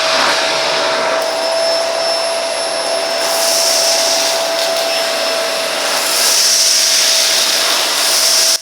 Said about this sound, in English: the Philips bagless vacuum is definitely one to consider